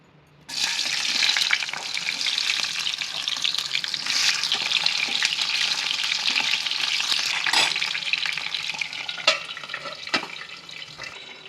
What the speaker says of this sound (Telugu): నూనె వేడైంది దొండకాయలను వేసి మగ్గించుకోవాలి